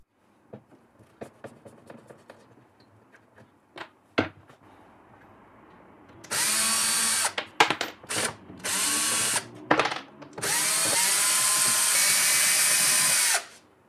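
A power drill backs screws out of a tool cabinet, with several loud, whirring bursts of varying length following a stretch of quieter clicks and handling noises.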